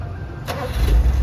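Nissan Sentra B13 engine starting on one click, a quick crank that catches into a low rumbling idle up close, brief and alone.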